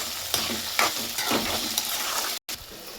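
Green chilli pieces and curry leaves frying in oil on a low flame for upma, a steady close sizzle broken by a few stirring clinks and scrapes, with a brief dropout near the end.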